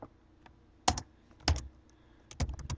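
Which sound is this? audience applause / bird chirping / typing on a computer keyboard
typing on a computer keyboard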